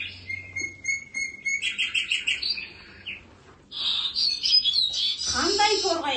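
A sparrow's call, played by a teacher in a classroom, brings repeated chirps and trills in bursts, then a longer, denser stretch of twittering song that sounds close and clear.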